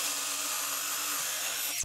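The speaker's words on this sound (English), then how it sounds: "I'm going to have to drill some holes down here in the legs" A power drill bores holes into the legs of a wooden headboard, a steady high-pitched whine running continuously and close up, then cutting off abruptly at the end.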